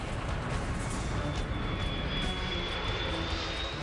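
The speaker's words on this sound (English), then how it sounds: "The plane comes in low." Aircraft engines drone steadily as a plane comes in low on a landing attempt, a broad continuous roar with a thin whine above it, constant and fairly loud.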